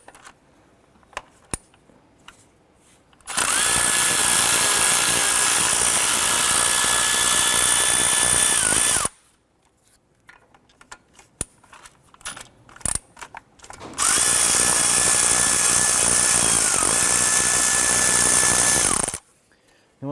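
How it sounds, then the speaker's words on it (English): Power tool with a 10mm socket running in two long, steady bursts of several seconds each, separated by a pause with small clinks and handling noises, while removing throttle cable bracket bolts on a 1993-1997 Ford Ranger. "Using a 10mm socket, we're going to loosen and remove our 2 bolts for our throttle cable bracket."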